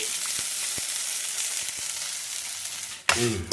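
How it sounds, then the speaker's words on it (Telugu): Curry leaves and chillies fry in hot oil in a pan with a steady, bright sizzle, broken by a few soft ticks and a sudden louder clatter of stirring near the end. "అలా వేపుకోవాలి. వేపుకుంటే బాగా మంచి స్మెల్."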